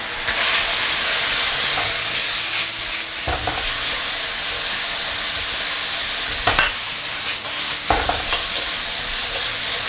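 Vegetables stir-frying in a hot wok, seasoned with soy sauce, sugar and salt, give a loud, steady sizzle with occasional sharp scrapes and clatters of stirring throughout.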